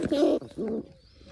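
Two low, soft cooing notes from a pigeon sitting nearby in a nest box, followed by quiet.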